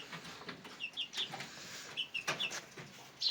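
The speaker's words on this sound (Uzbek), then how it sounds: "Bu tovuqchalar." Chickens cluck in short, quiet bursts, a few soft calls scattered over a few seconds in a calm setting.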